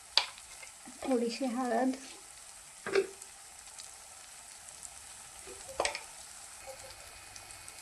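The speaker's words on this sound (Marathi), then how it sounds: "मसाला चांगला फ्राय झालेला आहे" Masala for a creamy makhana curry frying in a pan, a soft, steady sizzle running beneath a brief spoken remark and a few stirring clatters.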